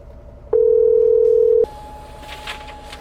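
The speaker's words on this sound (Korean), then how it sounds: "일단 전화해봐야겠다" A steady telephone dial tone sounds loudly for about a second, then cuts off, leaving a quieter line hum and faint background noise.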